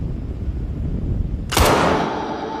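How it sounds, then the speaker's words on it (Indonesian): A single sharp gunshot from a film scene, fired as one character shoots at another, cracks out suddenly after a tense stretch of low background score and leaves a fading ring. "Bilson pun akan langsung menembak Cole"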